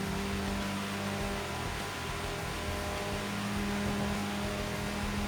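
A video game car engine, a Civic Type-R EK9 swapped with a VR38DETT, drones and slowly builds in pitch as it accelerates in sixth gear, a continuous synthetic-sounding roar with no pauses or voices.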